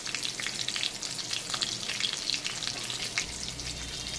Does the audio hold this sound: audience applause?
no